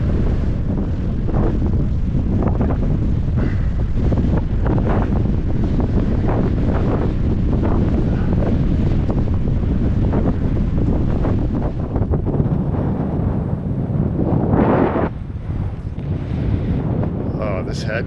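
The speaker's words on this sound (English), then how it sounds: "Oh, this headwind is kind of beating me down right now." Strong headwind buffets the microphone during a coastal bikepacking trip, a loud continuous roar and rumble that lasts throughout and eases slightly near the end.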